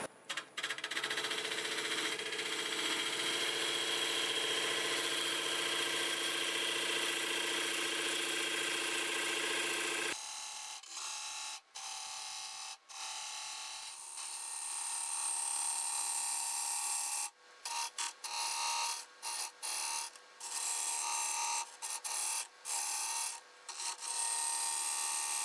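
A wood lathe spins a large segmented tumbling-block bowl while a tool shapes its outside, giving a steady loud rasping scrape that drops to a thinner hiss halfway, broken by brief gaps as the cut lifts.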